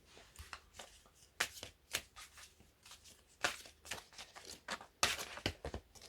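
A deck of cards being shuffled and handled during a Scorpio card reading: a quick series of crisp riffling and snapping bursts, close and fairly quiet, with no talking.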